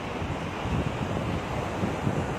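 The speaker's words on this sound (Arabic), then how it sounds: "البحر" Sea waves wash onto the beach at Mohammedia on an afternoon, a steady, close roar of surf mixed with wind rumbling against the microphone, with no voices.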